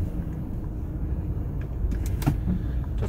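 Road traffic on a street in San Jose del Monte, Bulacan, a steady low rumble of passing cars with a few brief louder swells from nearby vehicles, no talking.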